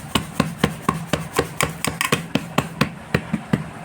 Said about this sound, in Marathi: त्यानंतर किनारीला पण मधून मधून असं थापायचं आहे